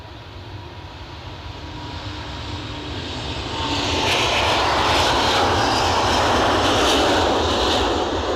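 An EasyJet airliner's engines roar at Edinburgh Airport, a steady broadband rumble and whine that swells louder over several seconds and then holds strong and close, with no voices.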